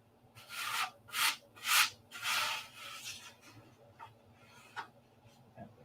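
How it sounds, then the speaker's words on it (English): Several sandpaper strokes scrub across a P-47 model in slow rhythmic passes, four strong rubs followed by lighter, sparser scrapes, close and dry with no talking. "there's going to be a whole lot of sanding going on"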